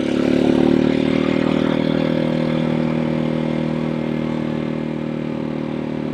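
A Janus Halcyon 250 motorcycle being ridden, its single engine droning steadily and loudly up close with a smooth, even tone that eases slightly over a few seconds.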